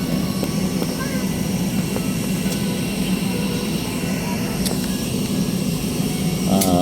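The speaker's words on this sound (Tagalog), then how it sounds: "Halos magkasabay lang po sila sa naturang aeroplano, Philippine Airlines, sa tapat natin" Jet engines roar steadily from a Philippine Airlines airplane nearby as the plane waits to take off for Manila, a constant loud cabin-side hum throughout, with a voice faintly under it.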